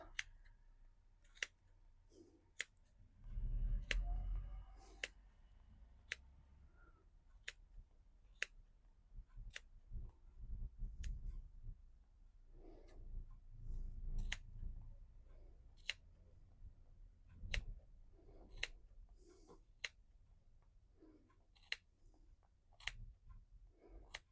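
Scissors snip through yarn while a pom-pom is trimmed, a long series of quiet, crisp cuts at a fairly regular pace with soft handling rustles between them.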